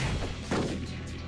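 A sharp gunshot from the fighting game Brutal Street 2 strikes once mid-clip, a short loud burst over a dense, continuous layer of game sound effects.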